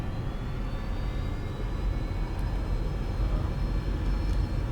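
Airliner engines roaring during takeoff in the flight simulator game X-Plane 11, a steady, loud, broad rumble with a faint rising whine that builds slightly over several seconds.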